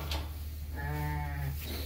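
A sheep bleats once in a farm pen, a near, drawn-out wavering cry of about a second over a steady low background hum.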